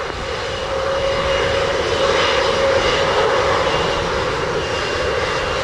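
An airplane lands at Montego Bay airport in Jamaica, its engine roar steady and loud throughout, with a broad rushing whine that swells slightly in the middle and holds to the end.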